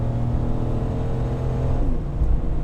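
A 1980s Camaro IROC-Z pulls hard up an on-ramp, its V8 roaring loud and steady under load, rising gradually as it gains speed with the engine rumble filling the cabin throughout.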